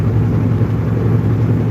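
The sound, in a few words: Kenworth W900 truck engine rumbling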